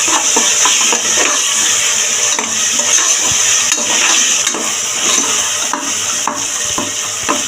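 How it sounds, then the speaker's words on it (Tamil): Tomatoes sauté with ginger garlic paste in a pan for vegetable pulao, a steady close sizzle with repeated scraping stirs and no talk. "தக்காளி வதங்கிட்டு இருக்கும்போது நம்ம இஞ்சி பூண்டையும் பேஸ்ட்டையும் போட்டு நல்லா வதக்கிக்கணும்"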